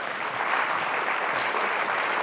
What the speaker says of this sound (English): And you're welcome to clap.